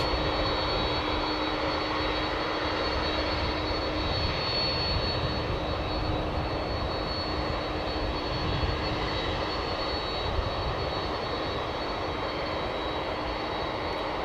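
Steady, loud roar of jet airliner engines running nearby at Dallas/Fort Worth Airport, a constant whine and rumble with no letup and no voices.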